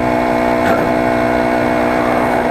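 A motorized bicycle with a four-stroke Honda GX35 clone engine and a slipping overrunning clutch drones steadily while riding slowly uphill, a constant buzzing engine tone heard close and loud without a break.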